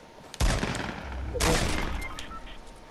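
Automatic gunfire in the Fortnite video game, a sudden loud burst of rapid shots followed by a second volley a second later, with distant echoing crackle trailing off.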